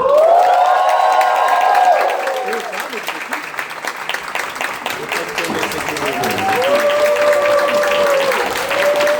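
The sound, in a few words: applause welcoming drag queen Vera Rosella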